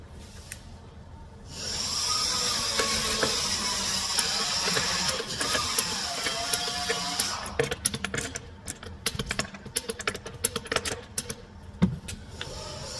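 Torque wrench clicking repeatedly as lug nuts are checked at 100 ft-lbs, following a steady whirring tool sound; the sharp clicks come in a dense irregular burst, close and fairly loud.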